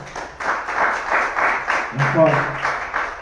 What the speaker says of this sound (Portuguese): glorifica a Deus com as palmas